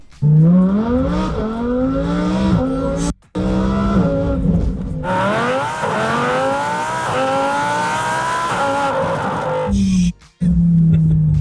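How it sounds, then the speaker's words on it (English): A 900 bhp Lamborghini Huracan engine revs hard, its pitch climbing through rapid gear changes with brief gaps between shifts, loud and close. "I've never seen or heard his car being actually accelerated, and it sounds mental"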